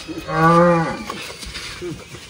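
A farm cow gives one loud, close, drawn-out moo while being held during a difficult calving, with people calling out around it.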